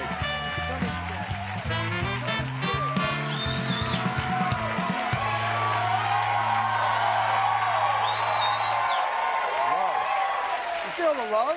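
A studio audience cheers and applauds for a returning comedian guest on a talk show, loud crowd noise under and around musical band tones, with whoops rising toward the end.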